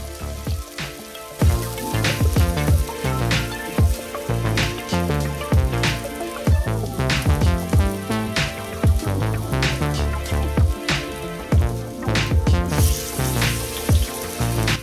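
Potato chapli kebabs fry in hot oil with busy, close crackling and sizzling, dense popping bursts running steadily throughout with no voice over them.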